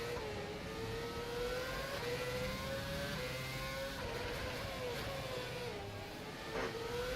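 Race car engine in rFactor 2 at the FSR 2017 Singapore track, a steady high-pitched drone that rises and falls through gear changes and corners, continuous and fairly quiet.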